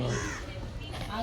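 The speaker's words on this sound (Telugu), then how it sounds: "కాకులు సౌండ్ చేస్తున్నాయి" Crows caw loudly nearby in harsh repeated calls, filling the short moment.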